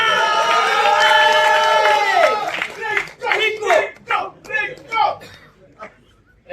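Audience cheers and claps for actress Rinku Rajguru at a trailer launch event, a loud sustained roar of crowd noise and shouting that breaks into scattered bursts of clapping and cheers before fading.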